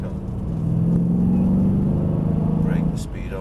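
A car driving round a bend, its engine humming steadily at a low pitch and swelling through the middle before easing off, with a voice talking over it.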